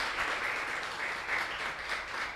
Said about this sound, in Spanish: Vamos a darle un fuerte aplauso a Cristo Jesús